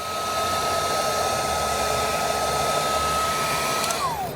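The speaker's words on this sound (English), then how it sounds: "if you don't have a heat gun like this, you can also use the hair dryer" A heat gun's steady blowing whir of hot air runs close and constant, then shuts off and winds down at the end.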